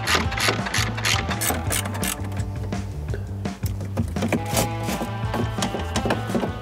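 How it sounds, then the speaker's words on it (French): Ratcheting and clicking of a 10 mm socket wrench unscrewing a screw during an oil and filter change, a close, steady mechanical whirr with repeated taps and clicks throughout. "on va devoir dévisser cette vis avec une douille de 10."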